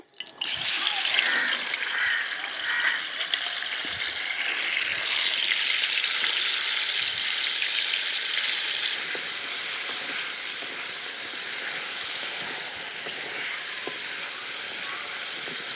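Salted dried fish fries in a pan with a steady, loud hiss and sizzle that holds for the whole stretch, with faint crackles scattered through it and no talking.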